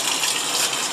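A shower head runs with a steady, close hiss of spraying water, continuous and loud with no pauses, for a seated shower.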